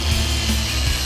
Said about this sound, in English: The real trick here is to keep the buffer moving.